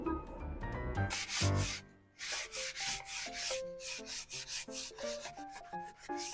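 Back-and-forth sanding of a wooden dining room piece being refinished for stain, a series of loud, close scratchy rubbing strokes in irregular bursts, with faint tonal background music underneath.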